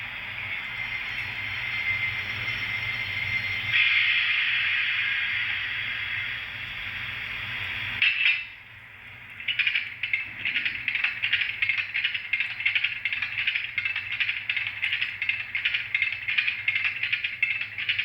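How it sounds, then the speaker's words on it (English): A BLI Paragon 4 GP20 model locomotive's DCC sound decoder plays its shutdown sequence: a steady diesel rumble and hiss wind down, a brief pause follows, then a long run of rapid, rhythmic ratcheting clicks as the handbrake is cranked on. "You hear the locomotive stopping, crew exiting, and then cranking that handbrake on."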